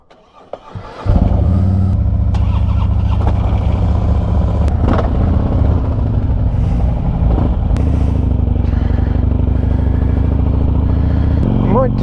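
Harley-Davidson motorcycles on a HOG group overnight ride to Karamea fire up after a brief quiet moment, then rumble loudly and continuously with revving engines, close by, and a voice briefly speaks over the noise.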